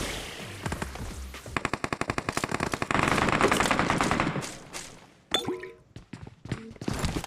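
Automatic gunfire in a shooting video game, Johnson game: rapid, loud bursts of shots rattle in tight rhythm, followed by scattered single shots and clanks.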